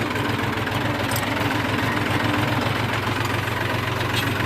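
A tractor engine idles with a steady low rumble and knock while a JCB loads it at a work site in Kutch, the drone continuous and fairly loud throughout with no talk.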